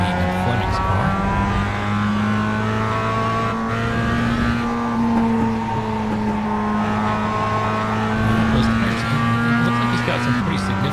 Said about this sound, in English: This is what it's like to be in Fleming's car.